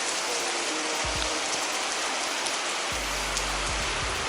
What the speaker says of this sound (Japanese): すげえ雨だな、しかし。